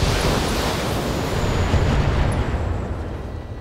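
Mech weapons fire in the BattleTech video game, a dense, loud rumbling barrage of explosions that blurs into one continuous roar and fades slightly toward the end.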